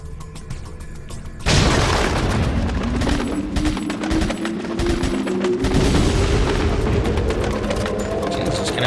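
A loud boom in Resident Evil 4 sets off rapid automatic gunfire, multiple rounds fired in quick bursts over a rising whine, close and sustained for several seconds.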